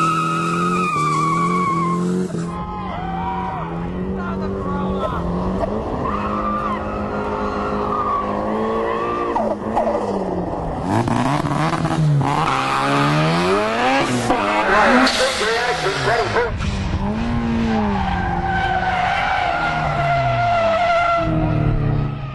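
Toyota Starlet Turbo at a hill climb event, tyres squealing and skidding through corners with engine revving, continuous and loud, with talk over parts.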